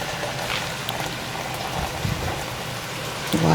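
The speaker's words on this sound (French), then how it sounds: "Là, je mets l'eau chaude." Hot water poured into a pot while making Senegalese fish yassa, a steady splashing rush lasting a few seconds, close and moderately loud.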